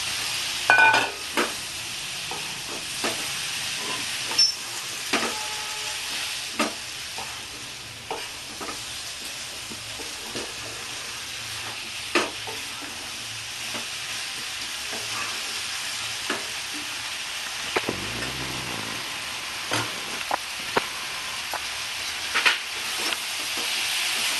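Potatoes fry in a pan for a Bengali-style jackfruit curry, giving a steady hissing sizzle with scattered clinks and stirring scrapes throughout, and no talking.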